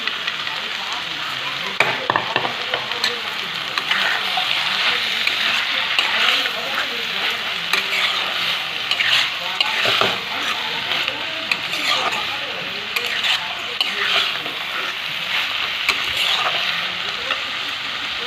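Fried eggplant is stirred into fenugreek greens frying in a pan, giving a steady loud sizzle with scraping stirs throughout.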